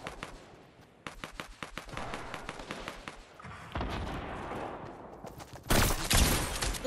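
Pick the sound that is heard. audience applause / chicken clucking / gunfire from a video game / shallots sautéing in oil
gunfire from a video game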